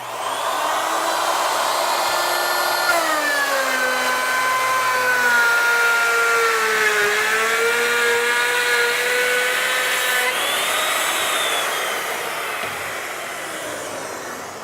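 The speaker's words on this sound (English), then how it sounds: "Going to plunge the router up above the work, go all the way through, relax it away from the work" A wood router plunged through a workpiece to cut a through dado on a vertical panel saw carriage, a loud whining motor whose pitch sags and recovers as it bites, steady for over ten seconds, with no talk.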